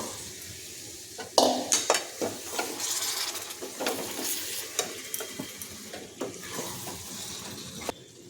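Fried potatoes are stirred into a jackfruit curry cooked with mutton fat, with a steady sizzle in the pan and repeated scraping and clinking of the spoon throughout.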